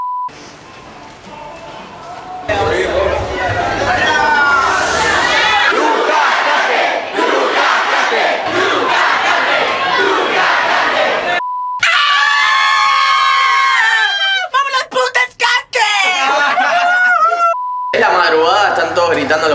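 Crowds of fans shout and scream in hotel hallways during a YouTuber fan event, a loud continuous roar of many voices with sharp cries and brief beeps, broken by short pauses and cuts.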